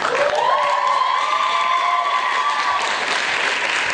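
Applause and cheering rise from a theatre audience for Aude-Marie at a school musical-comedy show, a steady loud wash of clapping with a few whoops and sustained shouts over four seconds, no talk.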